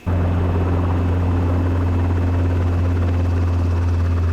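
A Robinson R22 helicopter sits touched down on a river, its engine and rotor droning steadily and loudly close by with a strong low hum throughout, no talking.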